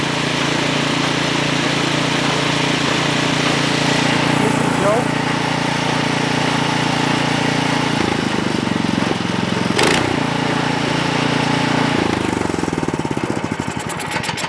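A Troy-Bilt snow blower engine runs steadily at full throttle in the run position with the choke off after a surging fix, loud and close, its droning hum holding even throughout with no surge.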